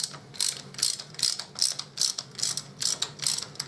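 A hand ratchet winds out bolts on a Harley Davidson Deuce trike, a regular clicking cycle of about eight strokes with crisp metallic pawl ticks, close up and with no voices.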